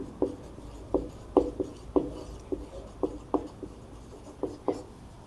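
A pen writes out a maths solution on paper, about a dozen distinct scratchy strokes and taps in an uneven rhythm, close and moderately loud, with no voices.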